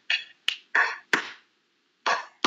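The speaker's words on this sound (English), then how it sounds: "That's the sound of clapping." Sharp hand claps, about six in a loose, uneven burst with a short pause before the last two, close and moderately loud with no talk over them.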